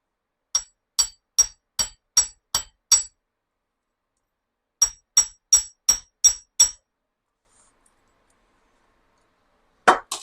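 A chasing hammer strikes wire on a metal bench block in two quick, even runs of sharp ringing taps, seven then six, with a last pair of taps after a pause.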